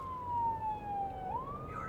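A police car siren wails with its lights-and-siren run, the tone holding steady, then dipping and rising again at moderate loudness with road noise beneath and no talking.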